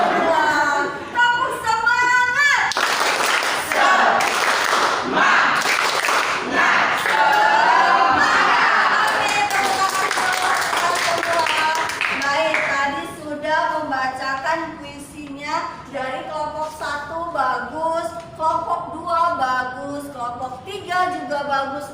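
Schoolchildren doing a rhythmic patterned clapping chant in a classroom, loud repeated claps blended with shouted voices.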